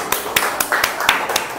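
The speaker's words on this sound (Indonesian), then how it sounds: "tepuk tangan buat kalian semua" Scattered hand clapping from a classroom group in an Indonesian teacher-training lesson: a handful of sharp, fairly close claps spaced about a quarter second apart, slightly uneven, with no talking over them.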